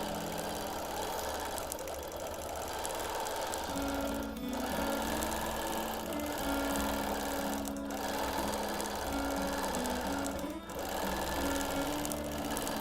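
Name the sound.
sewing machine quilting a feather pattern on a baby quilt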